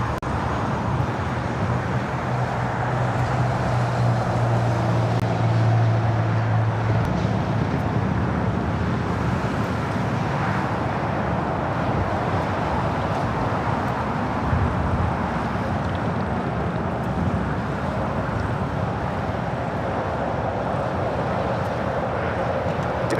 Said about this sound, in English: Singapore Airlines 11 taking off to Tokyo Narita on a 777-300ER